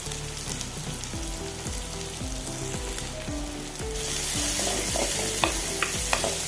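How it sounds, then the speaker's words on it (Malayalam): Two large chopped onions frying in coconut oil for a Kerala-style prawn curry hiss steadily up close, the sizzle growing brighter and louder partway through, with a few small pops. "ടേബിൾ സ്പൂൺ വെളിച്ചെണ്ണ ഒഴിച്ച് കൊടുത്ത് നമുക്ക് രണ്ട് വലിയ സവോള അരിഞ്ഞതായത് അടുപ്പത്ത് ഇട്ട് കൊടുക്കുക"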